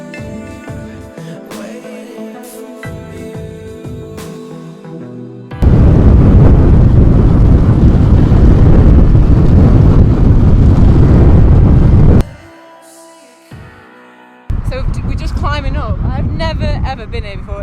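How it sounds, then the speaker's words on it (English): Strong wind buffets the microphone in a loud, roaring rush for several seconds, with talking before and after the gusts. "It is really windy up here"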